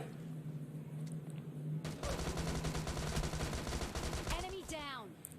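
Rapid bursts of gunfire in PUBG Mobile Lite as an enemy is shot, a dense volley of loud shots filling the middle of the clip after a quieter game ambience, with short trailing tones at the end.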